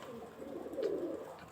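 Pigeons coo during a hunting outing, a soft, low, rolling call lasting about a second. It sounds moderately close and faint, with no speech over it.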